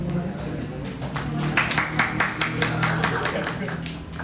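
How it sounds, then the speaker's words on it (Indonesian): An open mic comedy crowd claps, quiet at first and then swelling into a steady run of close, overlapping claps, with murmuring voices in the room underneath. "Tepuk tangan untuk Indomaret."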